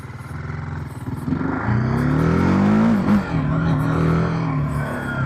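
A TVS Apache RTR 310 motorcycle pulls away in first gear, its engine note climbing steadily in a loud, close revving rise before easing off briefly and holding, with no voices.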